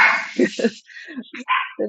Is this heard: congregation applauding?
no